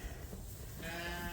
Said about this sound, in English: these sheep have been locked in the barn for the past 2 days